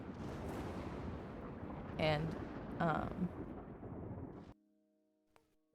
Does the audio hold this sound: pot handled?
no